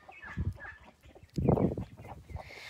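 A mother hen with young chicks or ducklings on a farm gives low, soft clucking calls in short bursts, a louder cluster in the middle, close by and otherwise alone.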